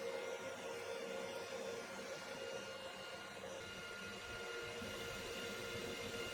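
A metal lathe turns down rusty axle bearing journals, producing a steady, faint, even machine hum with a constant tonal whine and no breaks.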